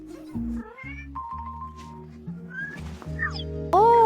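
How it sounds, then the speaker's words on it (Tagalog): A kitten meows several times in quick, rising calls over a musical background, indoors in a home kitchen, with a brighter, louder cry near the end. "anong ganda ng kuting!"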